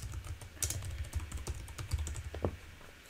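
An announcement title is typed on a computer keyboard with close, uneven clicking keystrokes, some quick runs and some pauses, with no voices.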